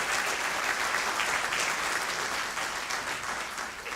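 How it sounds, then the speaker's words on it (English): Steady, dense applause fills a dinner hall as the audience claps for the lenders at an annual awards dinner, holding loud and even throughout before easing slightly at the end. "So can I have some applause for all of the lenders who are here today?"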